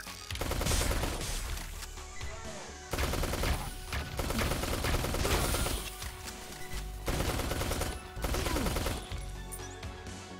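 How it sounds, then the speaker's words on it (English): Rapid SMG gunfire in the top-down shooter Neon Chrome, loud dense bursts of fast shots lasting a couple of seconds each, separated by brief pauses, with shattering impacts mixed in. "SMG, faster rate of fire, less damage per shot."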